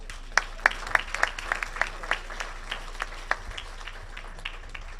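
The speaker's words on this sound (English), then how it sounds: "So he deserves a lot of applause." A small audience gives light, sparse applause at a scholarship special event, with scattered individual claps sounding fairly distant and soft, a few people clapping unevenly for several seconds.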